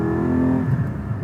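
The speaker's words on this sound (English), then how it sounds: "The sound of the exhaust" Exhaust note from a Porsche sports car, either a 992 911 Carrera or a 718 Cayman GT4, rumbles loud and steady with a harmonic drone that briefly shifts pitch over a short burst.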